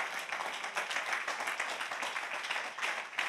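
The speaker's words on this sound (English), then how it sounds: "If you believe that, clap your hands." Church congregation at a sermon claps hands together, a steady, dense wash of clapping heard somewhat distant and soft, continuing evenly throughout.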